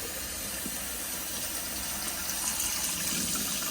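Water flowing steadily from a campervan tap, pressurized by an electric pump in a Hymer BSL 708 motorhome, a continuous even hissing gush that stays constant with no talk over it.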